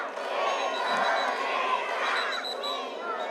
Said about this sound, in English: Now the crowd chant home the final Indonesian riders.